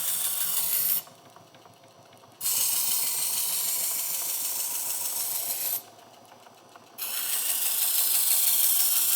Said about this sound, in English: now we're on the sharpening section, or the refining stage actually. And so it's much slower. We're just removing that burr.